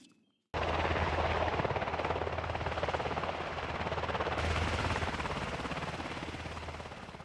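RC Black Hawk UH-60 model helicopter flying, its rotor and motor starting abruptly into a steady, dense buzzing whir that holds loud and even for several seconds.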